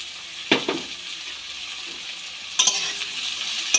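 Chopped vegetables with beans being mixed for a spring roll filling: a quiet bed of soft rustle, two scraping stirs early on, then a louder burst of clattering strokes near the end, close and without speech.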